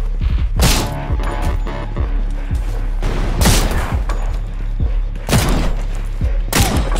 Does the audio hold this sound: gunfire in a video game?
yes